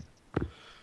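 During a tabletop role-playing game session, someone lets out a single short, faint sneeze, a quick burst in an otherwise quiet moment.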